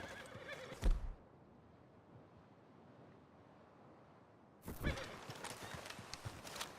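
Horses in Red Dead Redemption 2 let out a loud, close whinny at the start, then a quieter stretch of ambient hush before more whinnying and hoof clatter return.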